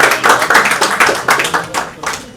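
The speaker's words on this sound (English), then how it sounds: "Let us give a big round of applause to sir." Rhythmic clapping from a group in a classroom or talk setting, loud and close, with distinct beats at a steady pace that fade slightly toward the end.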